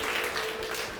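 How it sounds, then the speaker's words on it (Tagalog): A church congregation applauds for the Lord, a dense wash of clapping filling the room loudly for a brief moment. "pinakamalakas na palakpak para sa Panginoon"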